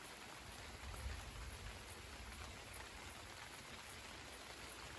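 Big raindrops from a thunderstorm fall steadily at night, a faint, even patter with no voices and no thunder.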